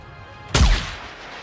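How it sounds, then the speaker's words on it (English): Single gunshot in the NIKKE video game, one loud sharp blast with a booming low tail that fades over about half a second, heard alone. "A single gunshot rings out as Crow collapses to the ground."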